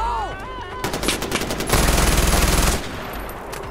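Rapid gunfire in Far Cry 4 as a player shoots at a badger, a dense burst of repeated shots that swells louder midway before cutting off, with game ambience around it.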